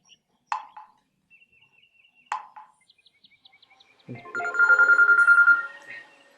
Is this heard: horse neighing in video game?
no